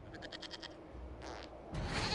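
Goat bleats in Dragon Age: Inquisition, a run of short, quavering cries near the start that fade into low game ambience, with a brighter burst of noise near the end.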